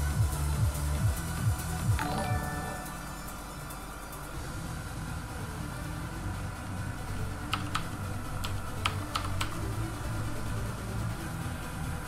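A computer keyboard clatters with quick, irregular keystrokes, close and fairly loud, with bursts of clicks and short pauses against a low background hum.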